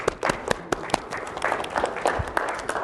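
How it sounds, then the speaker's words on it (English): Audience applause at a high school leadership speech contest, scattered sharp claps from a modest crowd following the introduction of contest organizers, with a few louder individual claps standing out. "Please, a round of applause."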